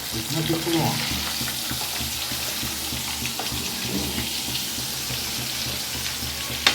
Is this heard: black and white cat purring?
no